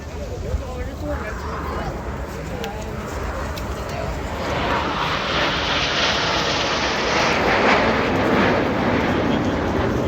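Fixed-wing aircraft flying at an air show, a loud continuous engine roar that swells and grows broader about halfway through as the planes pass close, with crowd or commentator talk faintly beneath.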